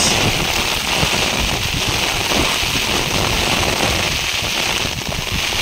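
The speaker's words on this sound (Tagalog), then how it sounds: "Umuulan na guys, umuulan. Grabe ulan guys, ang lakas." Heavy rain pours down steadily, a dense, continuous hiss of drops drumming on surfaces with no pauses throughout.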